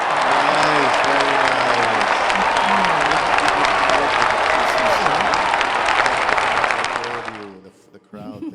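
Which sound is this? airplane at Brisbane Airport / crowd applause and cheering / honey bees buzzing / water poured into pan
crowd applause and cheering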